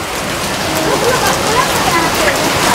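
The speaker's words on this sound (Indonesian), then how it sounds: "Hujan lebat sekali." Heavy rain pours steadily during an outdoor baptism beside a mosque, a dense continuous hiss of drops drumming on surfaces, loud and close throughout with no break.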